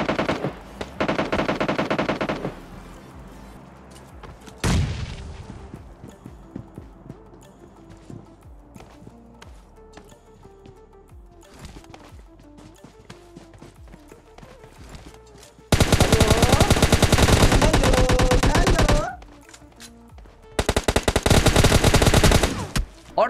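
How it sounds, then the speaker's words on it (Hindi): Gunfire in PUBG Mobile Lite: several long bursts of rapid automatic fire, loud and close, separated by quieter stretches with a single sharp shot and faint footsteps. "लेकिन तभी हमको सामने वाली विलेज से फायरिंग की आवाज आती है"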